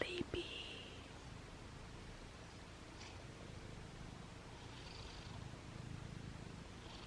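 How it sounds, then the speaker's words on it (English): A sleepy pet cat named Penny, tucked in a blanket fort on a couch, purrs in a low steady rumble close by, faint and continuous, while a soft voice talks to her gently. "I hear your purr."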